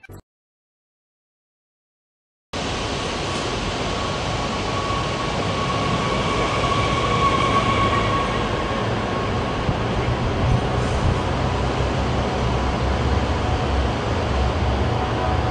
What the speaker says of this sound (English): Talon 2 just coming in here.